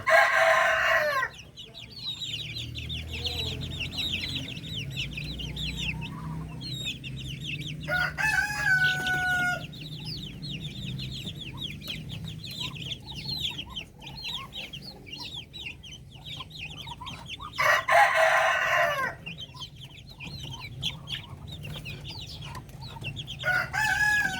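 Darag native chickens on a farm cluck and chatter steadily throughout, while roosters crow loudly several times at intervals, with a constant busy flock murmur underneath.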